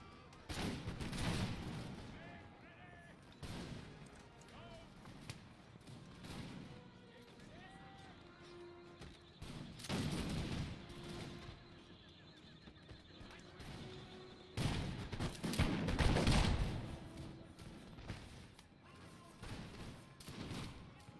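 Musket volleys from soldiers in the Empire Total War Victorian Era mod, crackling in scattered bursts among neighing horses and hoofbeats on a noisy battlefield, with someone talking over the fighting.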